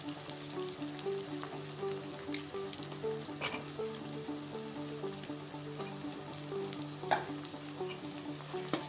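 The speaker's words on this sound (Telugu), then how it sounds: "టమాటా కూడా బాగా మగ్గేంత వరకు ఫ్రై చేసుకుంటాం." Tomatoes fry in a pan with ginger-garlic paste, a steady close sizzle with scraping stir strokes and a few sharp clicks of a utensil, no voices.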